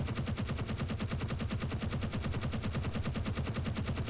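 Rapid automatic gunfire in the space building game Space Engineers, a dense unbroken stream of evenly spaced shots hammering loudly for the whole stretch.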